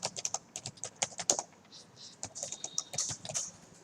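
Random demo text being typed on a computer keyboard: a quick, busy burst of close key clicks and clacks in an uneven rhythm, fairly quiet, with no talking.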